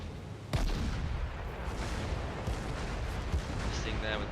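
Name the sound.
warship guns firing in World of Warships video game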